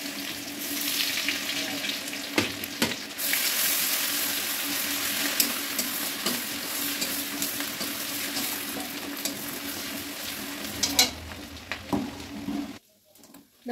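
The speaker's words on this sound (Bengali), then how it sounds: "আমি এখন এটার মধ্যে তেলের মধ্যে দিয়ে দিব রসুন আর আদাটা তেলে দিয়ে দিলাম" Chopped garlic and ginger fry in hot oil, giving a steady bright sizzle with a few stirring knocks, fading to near silence at the very end.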